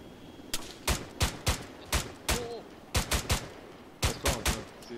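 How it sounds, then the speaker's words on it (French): Sharp gunshots crack in quick clusters of two and three, loud and punchy, with short gaps between bursts, video game gunfire in ArmA 3. "Je vois des coups de feu."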